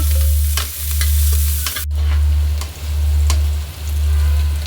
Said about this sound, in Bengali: আমার আন্টি পেঁয়াজ মরিচ দিয়ে দিল